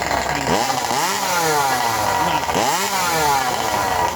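A chainsaw fitted with an aftermarket MS-250 carburetor roars up close at a sawfest competition, revving hard in two rising surges over a steady high-pitched engine drone.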